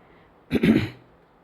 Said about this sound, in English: Hold on, I gotta clear my throat